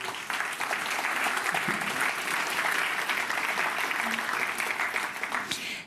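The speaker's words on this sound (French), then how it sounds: "Elles sont présentes ici, on peut d'ores et déjà les applaudir." A room full of guests at a MedTech startup evening applauds steadily for several seconds, a dense, even clapping that swells in and then tapers at the end.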